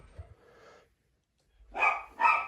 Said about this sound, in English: I've determined that it's every couple seconds, the dog barks.